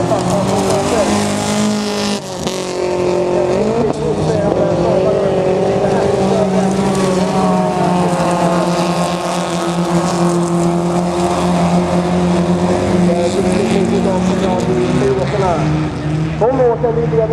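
Folkrace cars race around the Skepptuna track at an evening heat in 2015. Several engines roar loud and steady, their pitches rising and falling through gear changes, with occasional tyre noise, while a commentator talks over them throughout.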